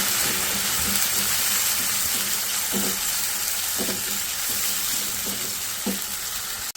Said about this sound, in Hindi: इसको ज़रा सा भून लूँगी पहले लहसुन अदरक के पेस्ट को।